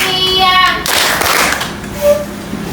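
A group claps hands in rhythm during a classroom clapping chant in a teaching performance session, with a chanted voice leading at first and then a wash of hand claps and a thump near the end.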